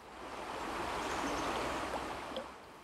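The River Nairn rushes past an undercut bank on the outside of a bend, a steady broadband wash of flowing water filling the whole stretch, close and fairly loud with no talk.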